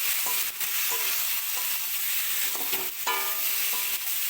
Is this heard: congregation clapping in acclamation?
no